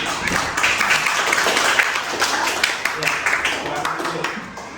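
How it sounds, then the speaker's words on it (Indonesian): Classroom applause for a group presentation: a room of students clapping together in a steady, moderately loud wash, with a voice speaking over it. "Berikan tepuk tangan dulu."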